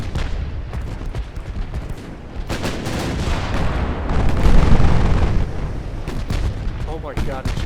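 Rapid naval gunfire in a World War II battleship game, a dense, continuous barrage of overlapping booms and cracks rolling on without pause, loud and close.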